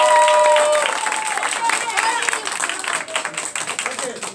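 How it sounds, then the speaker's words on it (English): Audience applause filling a hall, dense continuous clapping from a crowd that starts loud and slowly thins, with some voices mixed in. "give them a big round of applause"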